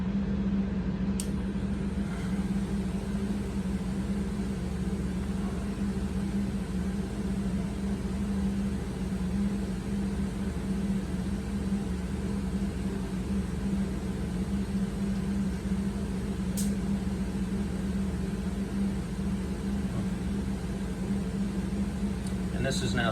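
A Sprink space activator device hums steadily after being switched back on, a constant low electrical drone with a broadband hiss on top, unbroken for the whole stretch, with a couple of faint clicks.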